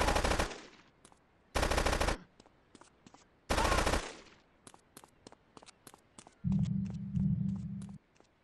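Gunfire in Grand Theft Auto III: three loud, long bursts of automatic fire, then a string of sharp single shots, with a steady low hum coming in near the end.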